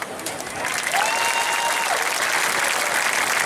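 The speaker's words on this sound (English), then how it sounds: "How about a cheer for them?" A crowd at the Governor's Cup race ceremonies in New Smyrna cheers and applauds for past race winners sitting in the audience, a steady, dense wash of clapping and whistling that swells after the first second and holds loud.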